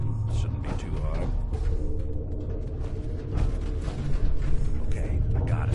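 A lock is picked on a locked door in Fallout 4, giving a dense run of metallic creaks, clicks and ratcheting that continues steadily and loudly under game ambience.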